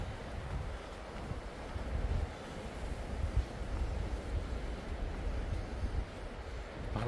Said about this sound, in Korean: 바람이 장난이 아닙니다.